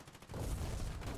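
A wall blown apart with explosives in Rampart's war mode, a sudden heavy boom that swells into a sustained low rumble after a brief quieter moment.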